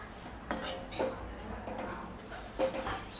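A spoon stirs dry coconut and onion masala in a pan over a low flame, giving a few close scraping and clinking strokes against the metal.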